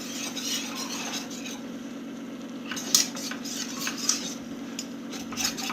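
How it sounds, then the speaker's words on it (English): Flour is whisked into melted butter in a pan for béchamel, a quiet repeated scraping and clinking of the whisk against metal over a low steady hum. "Whisk it around."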